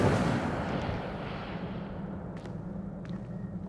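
The Incendio fire spell is cast in the video game Hogwarts Legacy: a rushing, fiery burst that starts strong and fades into a rumbling tail, with a couple of faint clicks near the end.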